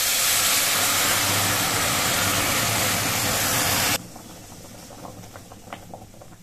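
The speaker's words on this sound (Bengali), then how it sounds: "এবার গরম জলটা আমি ডালের মধ্যে দিয়ে দিচ্ছি।" Hot water goes into lentils dry-roasted in a pan, setting off a loud, close, roaring hiss of steam that lasts about four seconds. It then drops sharply to a faint simmer with light crackles.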